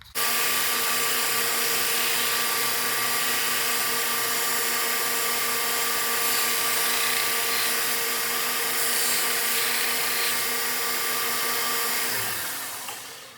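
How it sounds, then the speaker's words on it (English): A 2x48 belt grinder with a 120 grit belt whines steadily at high speed for over ten seconds while sanding Kydex sheath edges, a constant abrasive roar that winds down at the end. "Now we're going to use a 120 grit on a 2x48 to clean it up."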